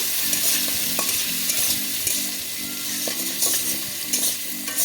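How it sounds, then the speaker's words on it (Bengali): Potatoes frying in oil left over from shrimp, a dense continuous sizzle with repeated scraping stir strokes and light clatter, close up with no voices. "এরপর আমি ওই তেলে দিয়ে দেবো আলু"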